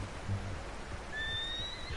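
Horse whinnying in the Red Dead Redemption 2 video game, a short, fairly faint neigh partway through over low rumbling background ambience.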